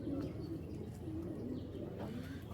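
A Giribaz pigeon coos in low, rolling calls close by, several short bursts repeating over a steady background murmur.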